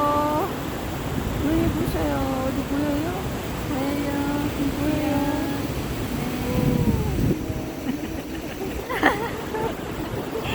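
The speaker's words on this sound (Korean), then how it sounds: "여기 직항 폭포입니다" A waterfall's steady broadband rush runs throughout on a sunny family outing, with people talking over it for most of the clip.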